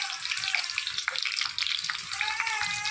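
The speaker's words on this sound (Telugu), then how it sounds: "నెయ్యి పోసాను కదా, ఇప్పుడు ఎల్లుల్లిపాయలు వేస్తున్నాను" Garlic frying in ghee, a bright steady sizzle with crackling spatters close by and a brief dip partway through.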